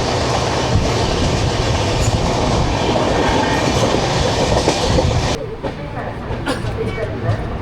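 A long-distance passenger train on the Kolkata to Haridwar route rumbles loudly and continuously along the rails, heard close from inside, with rhythmic wheel clatter. The rumble drops to a lighter, thinner rattle for the last couple of seconds.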